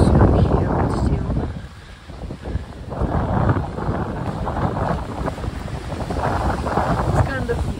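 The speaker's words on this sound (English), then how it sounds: "It's kind of windy." Gusty seaside wind buffets the microphone in a steady low roar by the sea, dipping briefly before rising again, with faint surf-like wash beneath and no voices.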